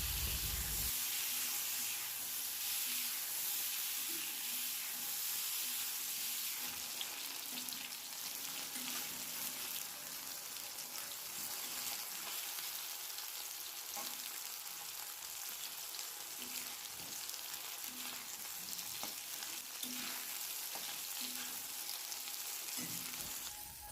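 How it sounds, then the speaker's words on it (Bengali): Salted, turmeric-coated brinjal pieces frying in hot oil for a Bengali shukto, giving a steady, close sizzle and hiss that runs unbroken throughout with no talking. "ওই তেলের মধ্যেই আমি আগে থেকে নুন হলুদ মাখিয়ে রাখা বেগুনটাকেও ভেজে নেব।"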